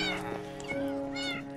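Meowing from a cat in the Minecraft video game: a few close, clear tonal calls in quick succession, with a faint voice briefly underneath.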